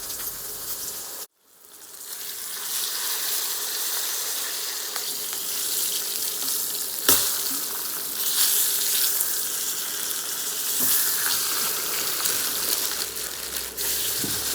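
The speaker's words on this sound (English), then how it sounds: "Then add the lamb shanks and brown them on all sides until golden and delicious." Lamb shanks brown in hot oil in a pan, giving a steady, loud sizzle that continues with a brief drop near the start and a few sharp pops and crackles.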